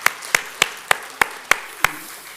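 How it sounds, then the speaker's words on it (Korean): Sharp, evenly spaced claps ring out one after another, seven distinct hand claps in a church service setting, fairly close and clear with no talking over them. "우리 한번 큰 박수로 환영해 드릴까요?"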